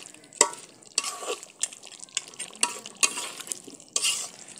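Beef curry with potatoes being stirred in a pot, a spoon scraping and clattering in a run of irregular strokes, close and moderately loud, with a soft sizzle underneath and no voices.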